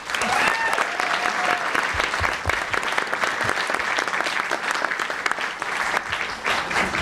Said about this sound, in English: let's give another round of applause for the candidates